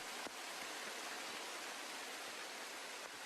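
Shiraito waterfall near Mount Fuji, with water pouring off a cliff, heard as a faint, steady broadband roar with no breaks and no voices.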